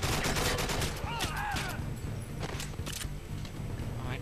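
Rapid turret gunfire rattles in the video game 007 GoldenEye Reloaded, dense repeated shots with sharp bursts and a few ricochet-like whines, loud and steady throughout.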